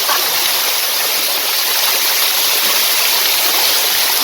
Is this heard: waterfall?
yes